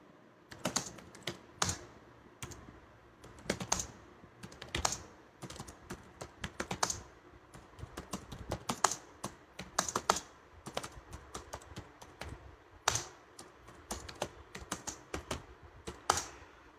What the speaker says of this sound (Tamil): ஸோ நான் இப்போ டைப் பண்ணுறேன் அந்த பாயிண்ட்டை.